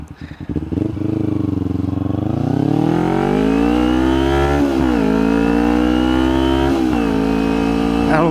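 A 250 motorcycle engine revs up loud and close, its pitch climbing over the first few seconds and then holding at a steady high drone with small rises and dips, alone with no talk.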